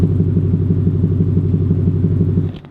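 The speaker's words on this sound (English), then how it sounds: "I love the rumble you get out of the exhaust." Deep, steady exhaust rumble from a custom Ford Raptor R idling close by, a low throbbing pulse that holds even for over two seconds before dropping away abruptly at the end.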